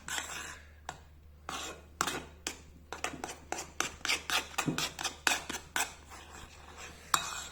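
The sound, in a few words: stirring batter for spätzle in a bowl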